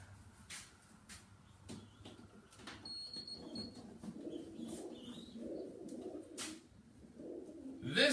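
Racing pigeon cooing softly while being handled close up, low repeated coos with light rustling and clicks of handling in a quiet room.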